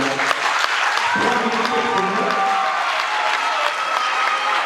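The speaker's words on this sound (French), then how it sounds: "On va applaudir les capitaines pour la projection." An audience at a debate claps loudly and continuously, a dense crackle of many hands with a faint tone ringing beneath it.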